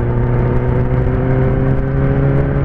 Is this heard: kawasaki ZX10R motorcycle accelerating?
yes